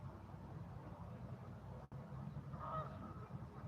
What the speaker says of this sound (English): there go two geese